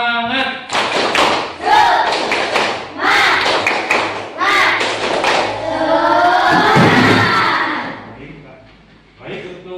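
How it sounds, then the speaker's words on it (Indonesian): A classroom group of pupils performs a rhythmic spirit clapping cheer, rapid claps and thumps in bursts with chanting voices, loud and close, fading toward the end. "Wah, tepuk semangat."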